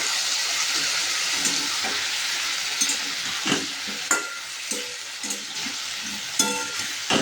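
Cumin and ginger paste fries in a pan for a Bengali ol (elephant foot yam) curry, a steady bright sizzle with scattered scraping stirs and light clinks close by, no voices.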